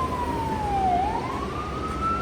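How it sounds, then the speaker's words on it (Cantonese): An ambulance siren on a busy New York street near New Lots Avenue, one loud sweeping wail that dips and then rises again over steady traffic noise, close by and with no talking. "嗰架咁嘅救護車嘈喧巴閉。"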